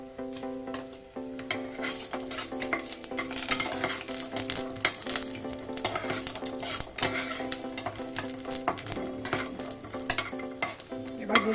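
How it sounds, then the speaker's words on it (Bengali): Lentil bori frying in mustard oil inside a pressure cooker, a steady close sizzle with frequent stirring scrapes and light clinks of a utensil against metal throughout. "আমি ভেজে নিচ্ছি বড়ি"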